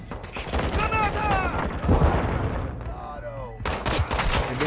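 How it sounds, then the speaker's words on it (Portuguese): A grenade blast and surrounding gunfire crackle through a Call of Duty DMZ firefight, with a sharp, loud burst of impacts near the end, under and between voices. "Granada!"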